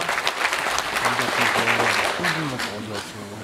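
Audience clapping at a Korean political committee launch ceremony, a broad continuous wash of applause with an amplified voice speaking over it the whole time.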